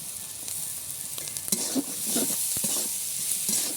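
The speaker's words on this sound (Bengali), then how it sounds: "এবার দিয়ে দেবো সেদ্ধ করে রাখা আলু এবার হাতের সাহায্যে ভেঙে ভেঙে দেবো এইভাবে" Boiled potatoes are stirred into carrot and capsicum frying in a pan, giving a soft steady sizzle broken by a few scraping stirs and light clinks of a utensil against the pan.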